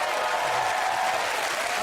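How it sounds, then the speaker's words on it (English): Studio audience applause for Leo on a TV quiz show, a dense continuous roar of clapping and crowd noise, loud and steady throughout. "Leo, everyone, give him a round of applause."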